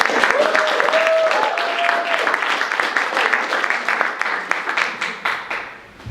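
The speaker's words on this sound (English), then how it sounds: "everyone give a big round of applause for a feature with Brisbane" An audience at the Soul Lounge poetry night bursts into loud, sustained applause for a featured performer from Brisbane, with a few whoops over the clapping before it thins and fades toward the end.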